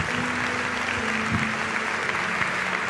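A church congregation claps loudly and continuously, a dense steady wall of applause with a low murmur of voices underneath.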